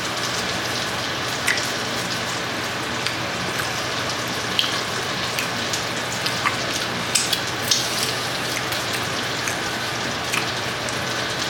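Homemade breakfast sausage fries in a pan with a steady, even sizzle and scattered crisp pops, close and continuous with no talking.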